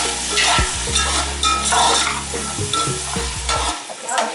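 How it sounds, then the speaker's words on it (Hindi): About half a kilo of green peas stir-fried in a pan for vegetable Kabuli pulao, with a steady close sizzle and repeated scraping stirs that stop near the end. "इसको फ्राई कर लेंगे हल्का सा"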